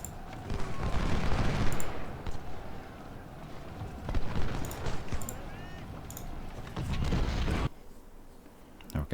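Cannon fire and massed musket volleys in the video game Ultimate General: Civil War, set at Fredericksburg, come as repeated rumbling bursts of battle noise. They rise and fall in waves over several seconds, with a dense, roaring background between the volleys.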